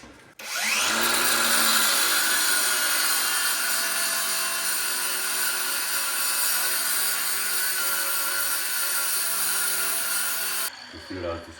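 A power tool cuts through the steel wishbone of a 1941 custom Mercury, a loud, sustained grinding whine that starts abruptly and runs steadily for about ten seconds before cutting off, close up.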